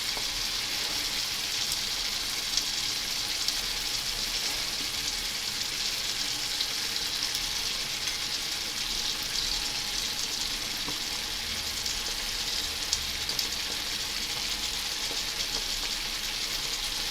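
Carrots hit hot oil in a pan while chicken tajine cooks, producing a loud, continuous close-up sizzle that holds steady throughout without talk.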